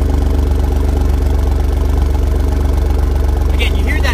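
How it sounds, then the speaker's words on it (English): A 2017 Alfa Romeo Giulia Quadrifoglio's 2.9-litre V6 idles loud and steady through its dual-mode exhaust with the baffles open in race mode, a deep pulsing rumble with a brief burst of higher sound near the end. "This has dual mode exhaust. I'm gonna put it in race mode. Now it's got a lot louder."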